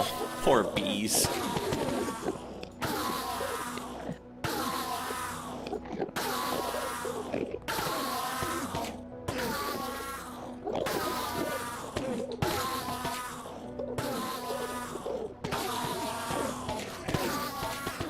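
Bees buzz in a video game, a repeating insect drone looping in regular pulses of roughly one and a half seconds under a low steady hum, with voices talking over it at times.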